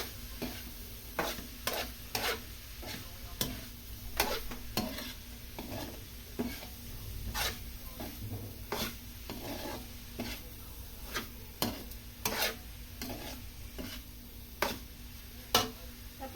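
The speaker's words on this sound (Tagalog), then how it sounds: "Tapos halo. Halo lang po ulit." Menudo being stirred in a cooking pan, a spoon scraping and knocking in a steady series of sharp, repeated strokes over a soft background sizzle, close and alone with no voices.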